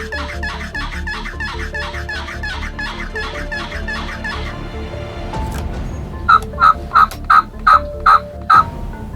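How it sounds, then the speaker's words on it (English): Repeated wild turkey gobbles roll out loudly in a series from woods near a decoy setup, then a run of six sharp, evenly spaced calls closes the stretch, with no talking. "Now I had heard other birds gobbling"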